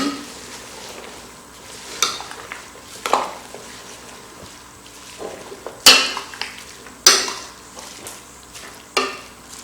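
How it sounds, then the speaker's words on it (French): A pot of zebu meat and greens bouillon being stirred, with scattered scraping and clinking knocks of a spoon against the pot over a faint cooking hiss, close by and without talk. "On va bien mélanger"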